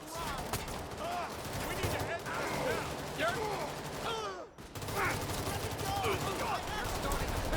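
Gunfire crackles in the heist shooter game Payday 3 as dense, rapid bursts of shots run almost continuously. Game audio drops out briefly midway, then the shooting resumes.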